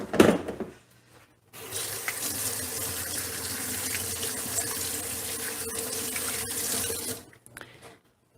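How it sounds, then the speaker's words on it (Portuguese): Hands being washed under a running tap at a kitchen sink: a steady, close rush of water for several seconds, broken by a brief handling noise at the start and a quick splashing tail at the end, with no talk. "Vou lavar minha mão."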